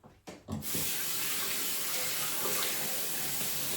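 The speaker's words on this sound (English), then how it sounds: "Let me just rinse out the shaving bowl." Tap water gushes steadily into a sink while a shaving bowl is rinsed out, starting after a couple of brief knocks and then running loud and continuous up close, with no talking.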